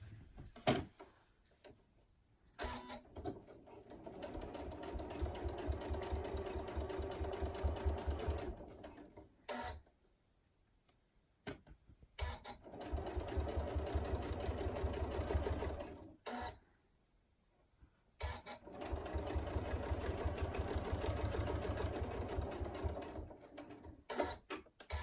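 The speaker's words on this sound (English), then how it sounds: "you're ready to start sewing again from where you finished to where you started" A sewing machine stitches a fabric tool wrap in three long runs of steady, rapid needle chatter, each lasting several seconds and separated by quiet pauses. The machine is close and clear, and no one speaks.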